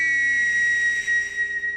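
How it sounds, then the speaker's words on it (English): A steam train whistle blows one long, steady, shrill note, held loud and unbroken from start to finish. "Oh, even the whistle's wet."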